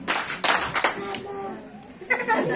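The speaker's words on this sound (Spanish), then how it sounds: "Dos aplausos." Short bursts of audience clapping at a comedy show, a few sharp separate claps and brief flurries with chuckles and a voice talking in between.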